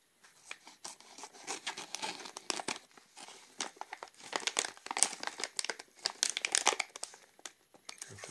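A plastic candy package of sugar-glazed peanuts with a zip top is handled while someone tries to open it. The wrapper crinkles and rustles in close, irregular bursts throughout.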